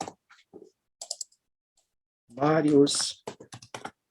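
Computer keyboard typing as names are entered, several short bursts of light key clicks separated by pauses, close and fairly soft, with a person speaking in between.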